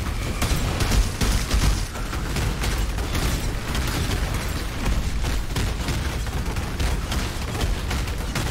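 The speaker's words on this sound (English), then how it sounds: "So there's stupid on-death explosions that you can tank with the steel skin." A dense barrage of on-death explosions and bursts in Path of Exile, booming and popping continuously at a loud, steady level with no pauses.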